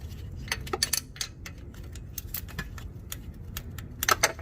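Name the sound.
ratchet loosening Mazda RX8 starter bolts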